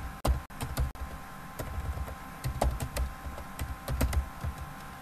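Rapid, uneven keystrokes clatter on a computer keyboard while a Kubernetes cluster is set up from the command line, with sharp clicks in bursts over a low background hum and no talk.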